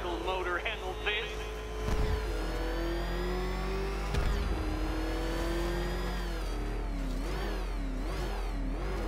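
Batmobile engine revving in a Batman video game, a steady mid-pitched drone with rising and falling revs, bursts of acceleration around the start and middle, with a talking voice heard over it throughout.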